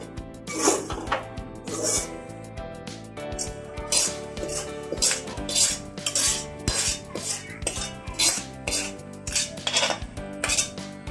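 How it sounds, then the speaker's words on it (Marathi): Ghee-fried fenugreek scraped from a pan into a wide plate, repeated metallic scraping and clinking of a spoon against cookware in an uneven rhythm over faint background music. "आता आपण हे परातीत काढून घेणार आहोत"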